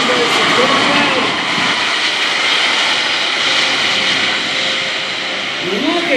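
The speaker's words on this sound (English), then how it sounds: "Get this airplane stopped." A C-5M Super Galaxy military jet transport rolls past at an airshow in West Virginia, its loud, roaring engines filling the air close by as people talk over it.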